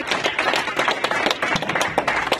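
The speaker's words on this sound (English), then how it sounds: "So let's give them a round of applause." A round of applause at a school event honouring students and parents: a few nearby hands clapping in quick, uneven bursts for a couple of seconds.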